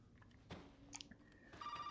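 A telephone rings in the Resident Evil 7 survival horror game, a thin electronic ring that starts near the end after a sharp thud and a few scattered clicks, fairly quiet overall with no talking.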